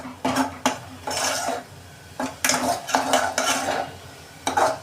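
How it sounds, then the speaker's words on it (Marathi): Ground masala paste for a surmai fish curry is stirred around a pan in hot oil, with repeated scraping and clinking of a utensil against the pot in uneven bursts, close up and fairly loud, with no voices. "आता मस्त असं वाटण चांगलं तेलावरती परतून घेऊया"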